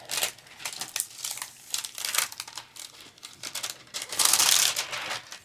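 The plastic cover on a Diamond Dotz "Mythical Dragon" diamond painting kit is peeled back close up in a run of crinkling, crackling bursts that end in a longer, louder tearing rustle.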